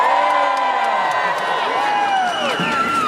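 A crowd at a Berkeley graduation ceremony shouts and whoops in a sustained, loud roar, with some individual cheers rising above the mass of voices.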